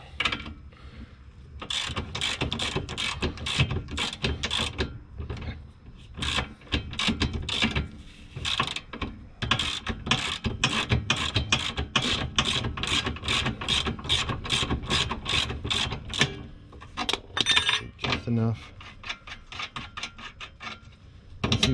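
Repeated ratcheting clicks from a ratchet wrench breaking loose a rear sway bar nut on a VW MK4 during an H&R rear sway bar install, coming in quick bursts of close, crisp ticks with short pauses, no talking.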